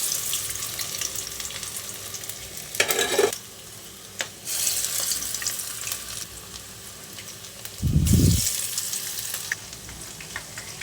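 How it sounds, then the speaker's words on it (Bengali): Mustard greens pakora batter frying in hot oil gives a continuous close sizzle, with a few louder bursts as more batter drops in and a brief low thump partway through. "আবারও আমি ওই তেলের ভিতরে বাকি যে ব্যাটারটুকু আছে সেটুকু একে একে দিয়ে দিচ্ছি, দিয়ে তারপরে একইভাবে ভেজে নেব।"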